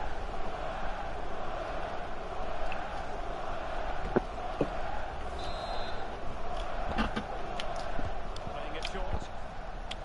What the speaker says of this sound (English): I don't know what the hell the crowd was chanting